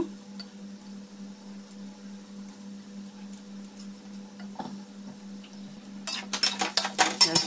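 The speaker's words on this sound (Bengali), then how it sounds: "একটু চেপে চেপে ভালো করে ম্যাশ করে নিচ্ছি" Boiled potatoes pressed and mashed in a pan for catla fish fingers, soft faint scraping and tapping over a low steady hum, then a burst of louder rapid clinks near the end.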